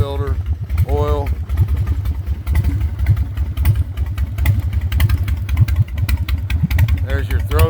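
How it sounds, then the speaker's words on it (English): A 17-year-old carbureted motorcycle engine idles with a throaty, lumpy rumble, loud and close, while a voice talks briefly over it at the start and end. "There's your throaty carbureted sound."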